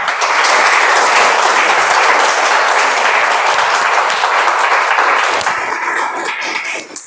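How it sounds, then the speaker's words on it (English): Audience applause for the Toastmaster at a Toastmasters club meeting, loud dense clapping from many hands sustained for several seconds before thinning out near the end, with no voices over it. "I think the maximum claps are coming from evaluators only."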